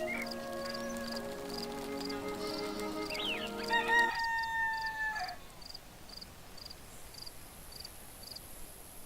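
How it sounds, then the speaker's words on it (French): A rooster crowing at dawn in the Black & White 2 video game, one long clear crow over a chirping insect chorus and light ambient chimes, close and alone before the scene falls quiet. "Ce coq me réveille tous les matins à l'aube."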